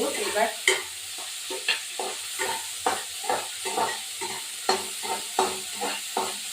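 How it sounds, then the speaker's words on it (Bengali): Potatoes frying lightly in a wok with a light sizzle, punctuated by regular rhythmic scrapes of a spatula stirring, close and steady. "একটু ভাজা ভাজা হবে বেশি না হালকা ভাজা হবে"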